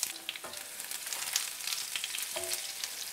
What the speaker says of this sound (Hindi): अब इसमें जीरा, सरसों और तेज़ पत्ता ऐड करेंगे।